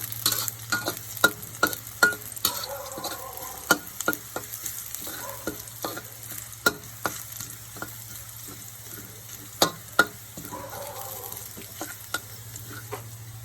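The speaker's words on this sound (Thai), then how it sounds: "เราก็ผัดกระเทียมนะคะให้หอมเหลืองนะคะ" Garlic is stir-fried in a pan, a continuous quiet sizzle punctuated by many quick, rhythmic spatula taps and scrapes, heard up close without speech.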